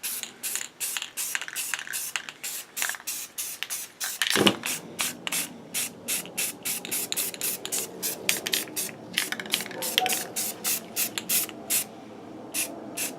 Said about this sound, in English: I'm doing that with just rattle can paint